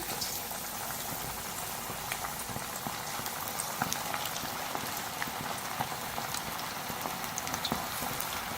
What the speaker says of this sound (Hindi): अब इसको फ्राई करेंगे। ऑयल हमारा गर्म हो चुका हुआ है। एक एक करके पीस शामिल करते जाएंगे।